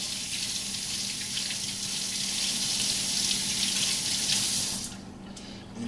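Blackberries rinsed under a running kitchen tap, a steady hissing stream of water splashing into a sink for several seconds before cutting off abruptly near the end.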